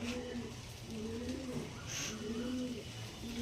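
Pigeons coo in low, repeated rolling calls, close by and continuous, over a steady background hum.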